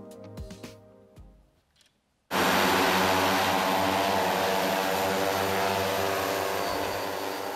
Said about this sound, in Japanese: ヤマハ発動機が開発した農業用ドローンが空から散布しているのは米の種もみです